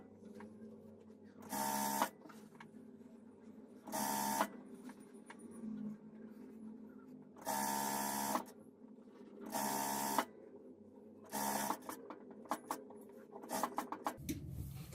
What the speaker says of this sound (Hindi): अब इसको ऐसे सिलाई यहां से पकड़े बराबर और उसी प्रकार से सिलाई लगाते चलें